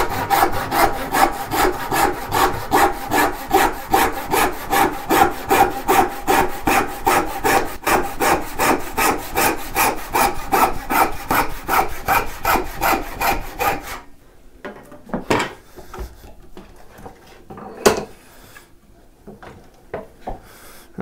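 A handsaw cuts through a wooden blind wedged mortise and tenon joint, giving about fourteen seconds of steady, close, rhythmic rasping strokes. The sawing then stops and a few quieter knocks and handling sounds follow.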